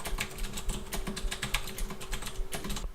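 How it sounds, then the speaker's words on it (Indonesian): Rapid typing on a HyperX Alloy Elite mechanical keyboard with 45-gram red-style switches and ABS keycaps, a close, dense stream of clacking keystrokes at an irregular fast rhythm over a faint steady hum, with no voices. "Berikut adalah suara tes dari keyboard HyperX."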